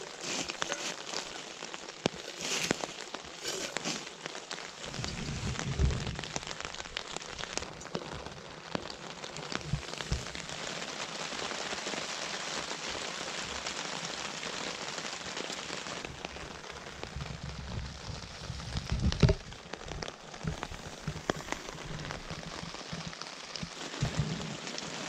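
Rain falls steadily on an island in the Canadian wilderness, a soft, constant patter with occasional heavier drops and gusts over about twenty-five seconds, no voices.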